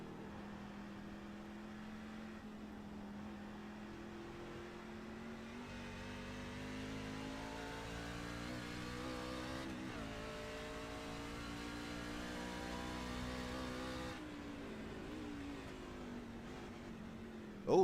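A racing truck engine in a sim racing game drones steadily and faintly through the clip, its pitch rising and falling as the truck accelerates and shifts, with a brief wheel hop and no talk.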